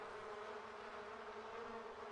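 Bees buzz around hives in The Sims 4, a faint, steady droning hum with no talk.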